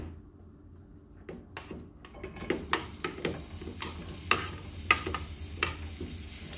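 Onion added to melting lard in a pan in a home kitchen, a soft sizzle swelling into steady frying with repeated spoon stirs and scrapes against the pan.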